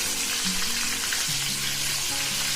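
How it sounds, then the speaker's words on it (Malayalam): Curry leaves sizzling in hot coconut oil for chicken fry, a loud, steady crackling hiss that stays close and continuous, with faint stirring sounds and no talking. "ഈ എണ്ണയിലേക്ക് കുറച്ച് കറിവേപ്പില നമ്മൾ ചേർത്ത് കൊടുത്തിട്ടുണ്ട്."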